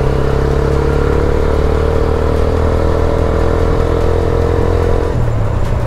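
A motorcycle engine drones loudly and steadily up close while riding a forest road to overtake, holding a constant throbbing pitch with a brief shift near the end as the rider changes speed.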